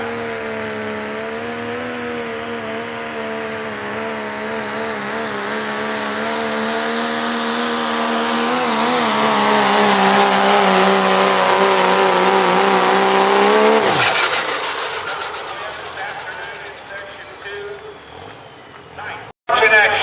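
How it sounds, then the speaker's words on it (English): A limited pro diesel pickup named Megatron roars down a drag strip at a live event, its engine note climbing loudly for about fourteen seconds before cutting off abruptly, followed by fading crowd and track noise. "Megatron, limited pro diesel pickup"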